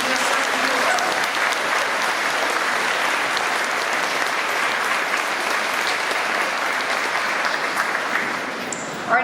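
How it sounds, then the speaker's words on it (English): Sustained applause from an audience at a school certificate ceremony, even and continuous clapping at a moderate distance for about nine seconds with no talking over it. "So can we have a round of applause, please, for those receiving their certificate?"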